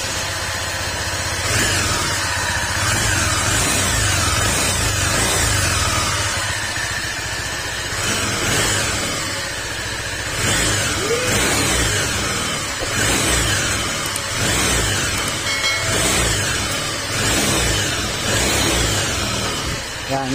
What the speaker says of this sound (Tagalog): narinig nyo na yung andar ng makina ni PCX